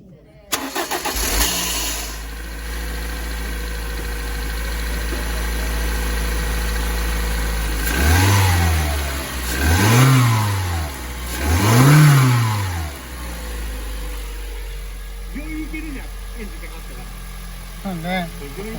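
A Toyota 1TR-FE engine with a newly replaced fuel pump starts and idles steadily, then gets three distinct revs that rise and fall in quick succession before settling back to idle, loud and close.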